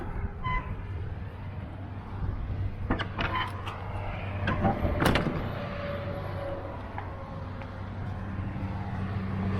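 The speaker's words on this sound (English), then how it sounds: "Get this door open." Truck trailer door being opened by a local trucker, a rattling metal scrape and clatter with a few sharp clanks midway, close up over steady engine or road rumble.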